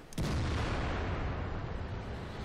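Tank cannon firing in the World of Tanks video game, a single sharp, loud boom that rolls out into a long, fading rumble.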